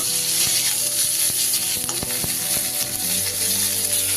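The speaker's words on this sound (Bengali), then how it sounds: "ফুলকপিগুলো যতটা সম্ভব সুন্দর করে ভেজে নেব।" Cauliflower florets frying in hot oil for a paneer, cauliflower and capsicum curry give a loud, continuous close sizzle, with sharp clinks of a utensil against the pan.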